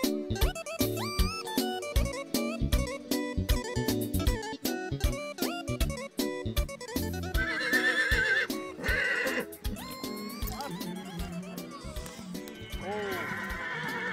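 Horses at a horse fair neigh and whinny loudly in repeated calls over the steady clip-clop of hooves, with people talking nearby.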